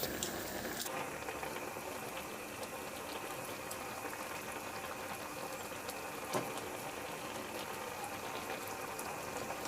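A covered pot of fish soup with vegetables simmers steadily, giving a continuous soft bubbling hiss with a faint lid rattle and one small knock partway through.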